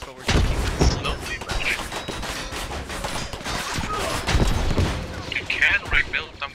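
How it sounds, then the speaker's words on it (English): Rapid gunfire hammering bunkers in the Squad video game, dense overlapping shots and thuds in loud bursts throughout, with some impacts, under and alongside voices talking. "They're shooting the bunkers, but we're just rebuilding them."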